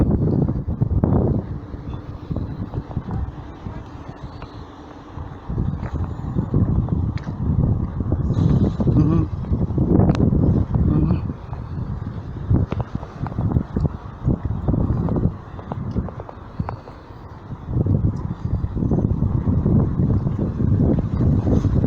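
Strong, gusty wind near the sea buffets the microphone continuously, with low rumbling bursts rising and falling throughout.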